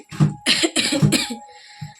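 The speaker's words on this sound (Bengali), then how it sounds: "এখনও শুকনো কাশিটা আছে" A woman who is still unwell gives a dry cough indoors. It comes as a short run of harsh, close coughs in quick bursts, followed by a brief pause and then one softer throaty sound.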